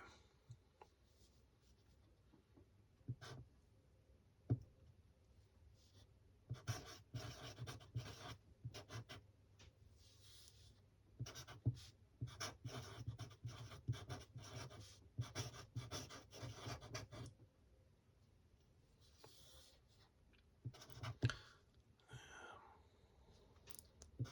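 Pen scratching race notes onto paper in a quiet room, a soft continuous scribbling with short bursts and pauses, close and faint, no talking.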